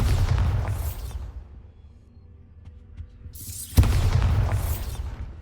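Booming spell blast from Bombarda cast in the game Hogwarts Legacy: a loud rumbling burst that fades into near silence, then a sharp second impact and another heavy roaring burst.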